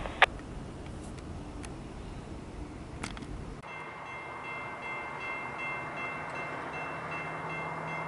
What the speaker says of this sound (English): This should be Amtrak 48.